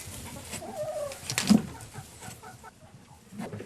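Backyard chickens on an off-grid homestead in the American wilderness give soft, close clucks and a louder squawk partway through, with quiet ambient rustling around them.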